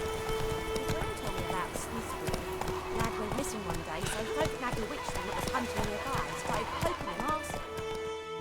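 Roach, a horse in The Witcher 3 game, gallops with steady clip-clop hooves under a dense layer of game music and effects, continuous and fairly loud throughout.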